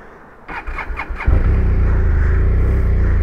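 A 2013 Polaris four-stroke turbo snowmobile engine cranks through several quick starter turns, catches and settles into a loud, steady, close idle.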